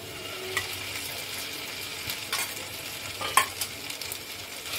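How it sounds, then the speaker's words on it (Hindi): Ginger, garlic and green chili paste sizzles quietly in a pan over fried onions. It is stirred with soft, scattered scraping clicks over a steady low hiss, and no one speaks. "इसको मैं थोड़ा सा भून लूंगी"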